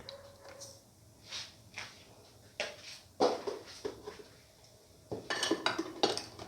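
Sugar being mixed into a bowl of pineapple coconut milk vermicelli, with scattered scrapes and clinks of a spoon against the bowl in irregular bursts, close but fairly quiet, with no one speaking.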